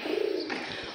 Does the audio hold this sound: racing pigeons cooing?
yes